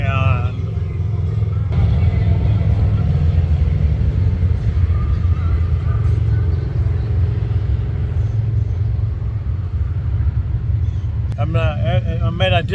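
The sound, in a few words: motorcycles riding past on Spearfish Canyon road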